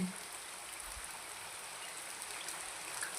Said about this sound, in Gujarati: મોટા મોટા ફોરા પડે છે